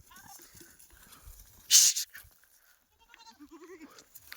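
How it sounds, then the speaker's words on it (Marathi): A goat gives a short loud bleat, followed by softer bleating calls, with quiet background voices and rustling nearby as goats are let out to graze. "खूप दिवसाच्या नंतर शेळ्या बाहेर चरण्यासाठी सोडल्या होत्या"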